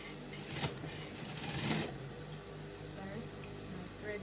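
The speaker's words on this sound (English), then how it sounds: "So I'll just sew it straight down" Domestic sewing machine running a straight seam down a free-cut maxi kaftan dress, a steady mechanical whir at close range with brief louder bursts early on, then a quieter hum.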